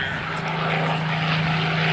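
A propeller-driven warbird flies past at a beach air show, a steady droning engine roar with a strong low hum and no pause.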